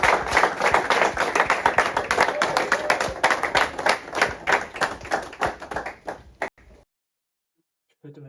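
Audience applause at a Congolese student event, a few dozen hands clapping nearby in a rapid, slightly rhythmic patter that fades and stops abruptly, followed by silence and a brief sound at the very end.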